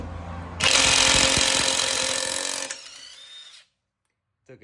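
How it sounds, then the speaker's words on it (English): SeeSii cordless impact wrench with a long socket spinning a nut off in reverse, starting with a brief quieter whir and then breaking into loud, rapid hammering for about two seconds before winding down and stopping, close up. "it kind of starts off a little quieter and then it goes into hammer time and really gives you more torque"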